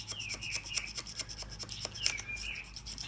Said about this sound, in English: for scraping North Carolina State inspection stickers and getting up underneath the edge and scraping it off